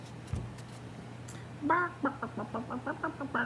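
A chicken with chicks clucks in a quick run of short, pitched calls, fairly close and loud against a steady low background hum, with no talking.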